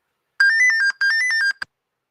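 A laptop ringing alert plays two bursts of bright, repeated electronic tones, each about half a second long, loud and close, followed by a short blip and then silence.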